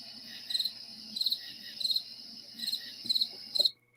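Crickets chirp in regular bursts, about six pulses of high trilling over a quiet background, then stop abruptly.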